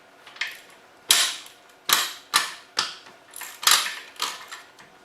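A cheap ratchet wrench works on a 390 Cadillac engine, giving six or seven sharp metallic clicking bursts at a steady, spaced rhythm, each fading quickly, close and clear with no talking.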